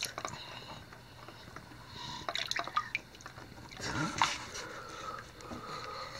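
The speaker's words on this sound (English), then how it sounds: "you taking a bath? You having fun in your bathtub?" A child splashes water in a bathtub full of toys, with soft, brief sloshes and drips at low volume over a quiet room.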